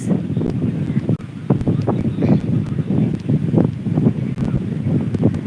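Steady gusty wind off the sea buffets the microphone, a low rumbling roar with bursts of rustle throughout, no voices.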